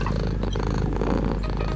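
A cat purring loudly and continuously while eating in a video game, a dense steady rumble with no breaks across the short stretch.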